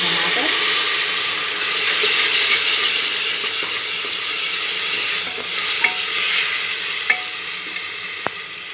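Tomatoes fry in hot oil with turmeric, red chili and coriander powder for a bottle gourd curry, giving a steady loud sizzle and hiss throughout, with a few faint clicks near the end.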